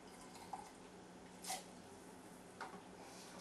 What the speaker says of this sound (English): It's a simple process of siphoning the wine over into your bottle and bucket.